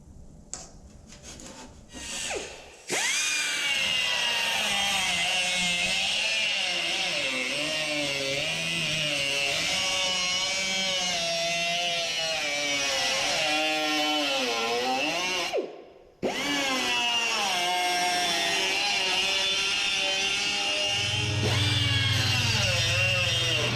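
A car rocker panel is cut along a masking-tape guide with a power cutting tool, a loud, steady, high-pitched grinding whine that runs almost continuously, with one brief pause before cutting resumes.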